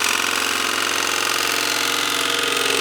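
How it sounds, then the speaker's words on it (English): A nibbler attachment driven by a drill cuts thin metal with a rapid, continuous mechanical chatter of tightly spaced punching strokes, loud and close with no pauses. "All you gotta do is hook this thing to your drill, and it's basically a nibbler for thin metal"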